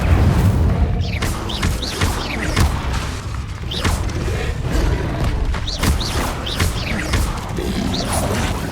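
Spells in Hogwarts Legacy, including the Incendio fire spell, burst repeatedly in a game fight, with whooshing casts and heavy impact booms at an uneven rhythm.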